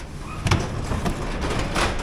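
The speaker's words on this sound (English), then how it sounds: "I'll go ahead and open up the garage real quick." An insulated garage door rolls open with a low, steady mechanical rumble and a few clunks, close and continuous for about two seconds.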